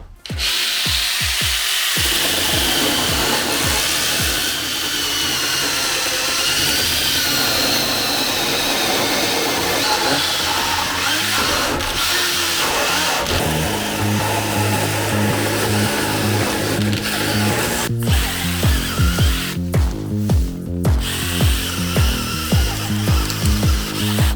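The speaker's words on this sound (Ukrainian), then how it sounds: "Давайте спробуємо насадку пилу." A multitool with a saw attachment buzzes loudly and continuously, grinding through wood with a rough rasping tone that shifts to rhythmic pulsing strokes near the end.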